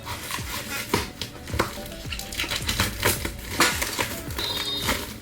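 Crinkly crunching and sharp scraping as the packing around a 16-inch MacBook Pro M1 Max is cut open, close and continuous with repeated crackles and snips, no talking.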